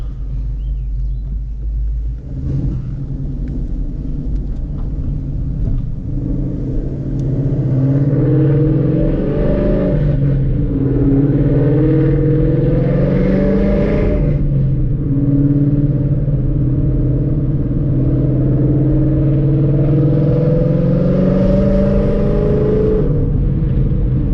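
An S197 straight-axle car fitted with BMR suspension drives along, its engine rumbling loud and close, with the pitch rising and falling as it revs and accelerates through the run.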